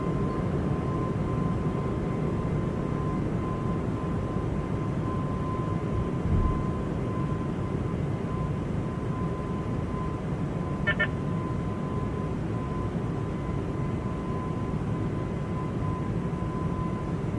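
An Airbus A220 in a flight simulator game rolls down the runway on its takeoff run, giving a steady, broad engine roar throughout with no breaks.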